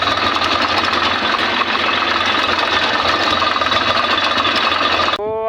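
A tractor engine idles loudly and steadily nearby at a large mine site, a constant rattling chug that cuts off abruptly near the end.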